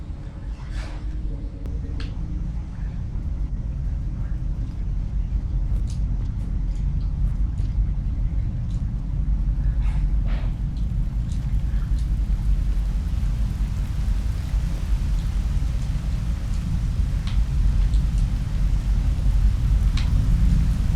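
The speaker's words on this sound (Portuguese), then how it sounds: "agora vou subir a mega chuva" The mega rain storm in the video game Rain World rumbles in a continuous, dense low roar of heavy rain and thunder, with scattered sharp crackles over the top.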